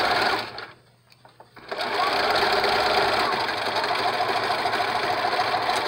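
A sewing machine stitches a medical mask cover at a quarter-inch seam, running loud and steady after a brief quiet pause near the start.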